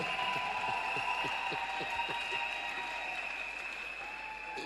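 A wedding congregation applauds in continuous, dense clapping that holds steady throughout, with a tonal hum or music sustained underneath.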